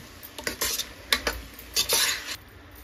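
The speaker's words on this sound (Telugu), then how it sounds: "ఇప్పుడు ఇదంతా కూడా బాగా కలుపుకోండి." A spoon stirs tomato and whisked yogurt masala in a cooking pot for vegetable pulao, with several scraping strokes against the pot and faint sizzling between them, close and fairly quiet, no talk.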